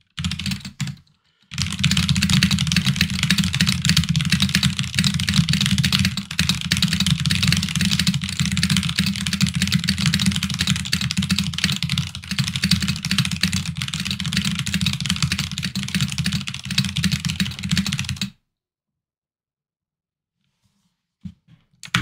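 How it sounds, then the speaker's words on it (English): Fast speed typing on a Royal Kludge RK61 mechanical keyboard makes a dense, continuous rattle of key clicks for about seventeen seconds before stopping into silence. "Royal Kludge RK61."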